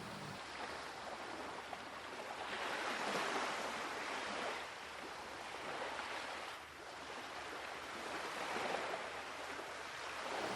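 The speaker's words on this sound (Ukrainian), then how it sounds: "Давайте з вами послухаємо, як шумить море." Sea waves wash in and recede in slow, rolling surges, a soft continuous roar of surf with no voices.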